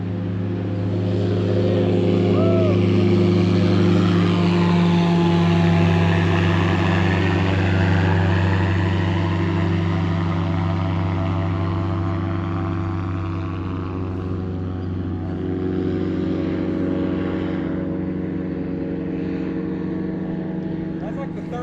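An airboat's loud propeller engine drones steadily as it passes nearby on the water, a deep rumbling roar holding throughout before easing slightly toward the end.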